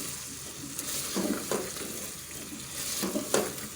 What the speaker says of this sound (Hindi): अब हम दोबारा इसे भूनेंगे